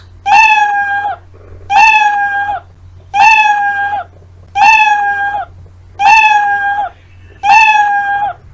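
Six loud, drawn-out cat meows from the Scratch programming cat sprite sound effect repeat at a steady pace, each clear and close with brief gaps of quiet between them.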